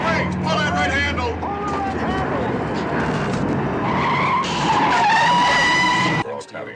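Film sound effect of an airliner touching down and braking hard, tires skidding and squealing in a loud, sustained screech with rumbling underneath, ending abruptly, while voices talk over it.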